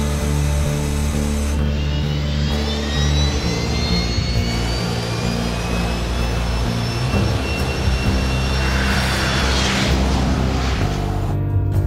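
A J-16 fighter jet flying, its loud continuous engine roar holding steady with a whining tone that rises and swells toward the end, close and dominant throughout.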